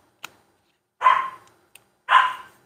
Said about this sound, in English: if you hear a dog in the background